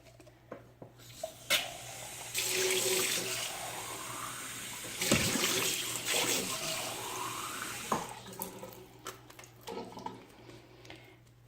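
Running tap water splashes and rinses a doll in bursts, fairly close, with brief pauses between gushes and a steady low hum underneath.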